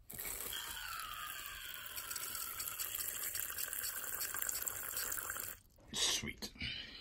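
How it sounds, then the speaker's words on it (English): Water pours steadily into a tarantula's water dish, a continuous gushing fill that runs for several seconds and then breaks off into a few short splashes near the end. "Fill the water dish up"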